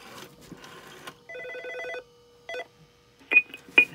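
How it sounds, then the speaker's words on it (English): Rotary telephone on a home analog phone system being dialed to extension 35: short bursts of tone and a couple of sharp clicks come through clearly, with no talking. "now we can demonstrate the rotary phone"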